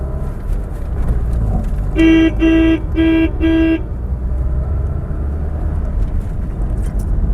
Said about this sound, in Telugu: హార్న్ కూడా పెద్ద హార్న్ అనమాట సౌండ్ బాగా ఎక్కువ వస్తుంది